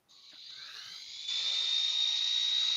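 An electric drill spins up and runs at a controlled speed during woodturning, its high whine rising in pitch and getting louder partway through, then holding steady, close and with no voices.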